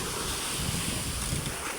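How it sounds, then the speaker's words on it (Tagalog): Rough Pacific Ocean swells and strong wind heard from a fishing boat at sea, a dense, constant roar of wind noise and breaking water with no voices. "maalon pa rin. Namumuti pa yung ibang alon mga kabiwas."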